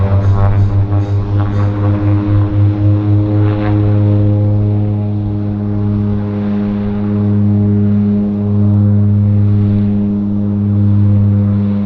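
A propeller floatplane departing Vancouver Harbour for Victoria drones loudly and close, its steady engine note pulsing slightly at first and then holding level with small swells.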